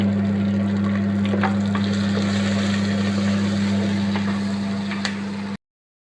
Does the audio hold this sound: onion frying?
yes